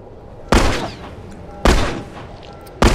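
Revolver gunshots in the video game The Last of Us, three sharp loud blasts spaced about a second apart, each with a brief decaying tail.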